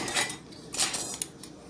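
A metal canning lid clinks and scrapes onto the rim of a jar of homemade cranberry juice, a few light, close metallic taps and rattles in quick succession.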